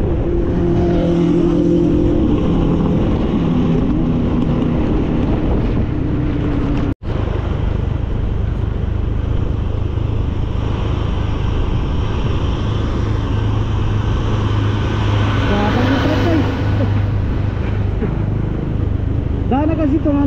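Trucks and trailers rumble past on a provincial road in Bataan, a continuous low engine drone heard from a moving vehicle, with one brief dropout and a rising engine sweep in the latter half; people talk over it.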